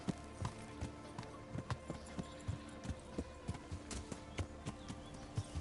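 Horse hooves clip-clop steadily in Kingdom Come: Deliverance, a quiet, even trot of regular thuds over a soft background hum.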